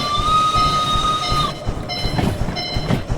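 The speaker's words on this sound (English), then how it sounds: "Whistle!" A steam shunter locomotive in the Derail Valley simulator sounds a clear, sustained whistle for about a second and a half, followed by rhythmic chuffing and clanking of the running engine.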